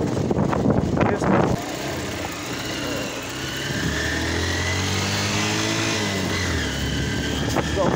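A motorcycle engine running steadily while riding, a continuous droning hum with wind rush, after brief talk at the start.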